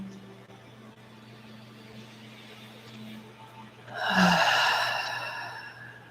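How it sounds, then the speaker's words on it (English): A deep breath taken together during a guided soul-nurturing meditation: a quiet hum at first, then a single loud, airy inhale and exhale that slowly fades. "Let's take a breath together."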